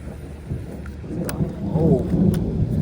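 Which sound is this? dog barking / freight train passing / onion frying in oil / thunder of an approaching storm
thunder of an approaching storm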